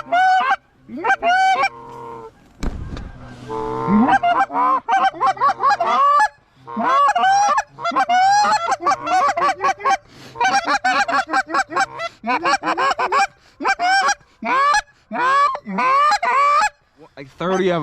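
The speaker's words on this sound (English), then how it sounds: "Alex, them geese will do it to you, bub." Honking flock of wild geese during a waterfowl hunt, dense overlapping calls near and loud for the full stretch with a brief burst of noise partway and a few quiet gaps.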